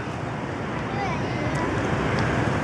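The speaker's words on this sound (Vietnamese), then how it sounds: "Đó, đây là cái cửa xả nước nè." Water rushes steadily out of a drainage outlet into a channel carrying outflow from Xuan Huong Lake, a continuous close broadband roar with wind buffeting the microphone.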